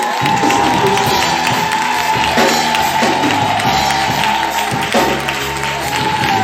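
A church congregation cheers and applauds in a dense, loud, continuous roar of clapping, shouts and whoops that fills the whole stretch without letting up.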